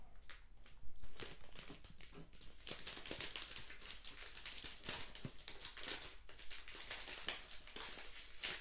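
A crinkly plastic wrapper on a wafer biscuit from northern France is opened with continuous close crackling and crumpling, dense and steady, with sharper crinkles scattered throughout and no talking.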